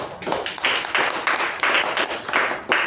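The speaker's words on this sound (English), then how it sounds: "let's give her a round of applause" Members at a Toastmasters meeting give a round of applause for Shreya, a dense burst of hand clapping from a group that swells in repeated waves and carries on without talk.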